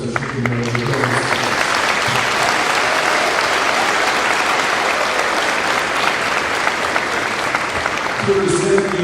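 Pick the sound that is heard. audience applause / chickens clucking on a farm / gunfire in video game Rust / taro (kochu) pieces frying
audience applause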